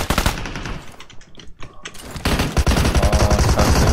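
MK machine gun bursts fire in a video game shootout, rapid loud rattling volleys that pause briefly in the middle before resuming as sustained heavy fire.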